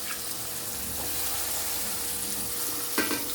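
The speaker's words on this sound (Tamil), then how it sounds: "இப்போ வதக்கினதுக்குள்ளே போட்டுக்கலாம் பொட்டேட்டோவை." Potatoes being stir-fried in sautéed masala, heard as a steady, quiet sizzle with a single sharper scrape or clack near the end, close by and without voices.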